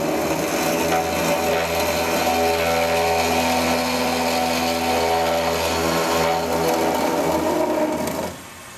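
A Doringer D350 SA saw cuts through material with a loud, steady droning whine and deep hum that holds for about eight seconds before the cut ends and the sound drops away.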